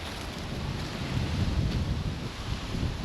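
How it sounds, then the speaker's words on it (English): Wind blows steadily outdoors in a cemetery, a dense low rumble of gusts buffeting the microphone with no voices, rising slightly in the middle. "I hear wind and I know I'm coming up on a tree."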